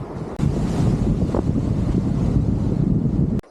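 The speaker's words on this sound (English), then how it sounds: "if the wind does ever stop here" Steady, loud wind roars at a barren coastal beach near clear water, buffeting the microphone with a constant broadband rush that stops abruptly near the end.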